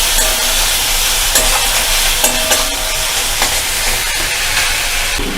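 A spice mixture with whisked sour yogurt hisses and sizzles in a frying pan while a spoon stirs and scrapes it in uneven strokes. The sound is close and loud, and nobody talks.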